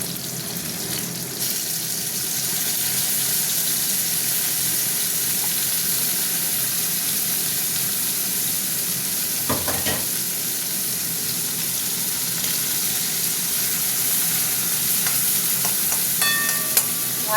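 Shrimp and puti fish fry with onion in a pan, giving a steady, close sizzle that runs throughout with a few brief clinks and stirring sounds, and no talking.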